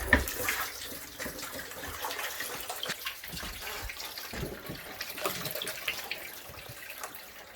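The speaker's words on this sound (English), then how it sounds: "Go ahead and pour it out right here." Water pours out of a cabin water filter housing into a shower pan, a faint continuous splashing and trickling with soft irregular spatters throughout.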